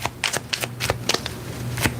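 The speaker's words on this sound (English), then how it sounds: "Shuffling for Aquarius." Quick riffling bursts of tarot cards being shuffled, a rapid uneven flurry of crisp flicks close by.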